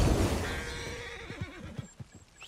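A horse in the video game Red Dead Redemption 2 gives a loud, close whinny that starts strong and trails off into a quavering, descending neigh, with a few soft hoof sounds near the end.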